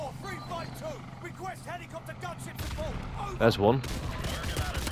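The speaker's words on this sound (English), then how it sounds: "I've got a thing called cluster grenades or cluster bombs." Cluster grenades going off in a Call of Duty game: a rapid string of bursts and crackling blasts swells toward the end, while someone talks over the action.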